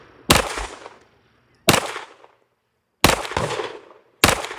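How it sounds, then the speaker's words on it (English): Springfield Kuna pistol with an Aimpoint-style red dot fired at a target from about 10 yards: four loud, sharp gunshots at an uneven slow pace, each followed by a brief echoing decay. "I want to shoot some shots to the target to show y'all how accurate the gun is"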